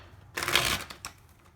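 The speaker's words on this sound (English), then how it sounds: "I'll take one more shuffle, please." Tarot cards riffled in one brief, crisp shuffle lasting about half a second, with a smaller flutter of card edges just after, close and fairly quiet.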